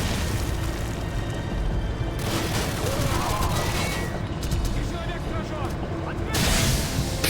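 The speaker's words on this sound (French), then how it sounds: "Grenade, grenade, grenade," Grenade blasts and gunfire in Call of Duty: Modern Warfare campaign, dense booming combat noise throughout, with a louder burst near the end and voices shouting over the battle.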